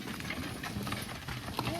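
Hooves of a horse team clip-clop steadily while the pair drags a logging cart around a corner, moderately close over a busy outdoor background with voices murmuring.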